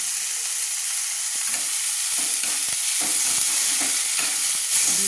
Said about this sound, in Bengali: মুগ ডালটা নাড়ছি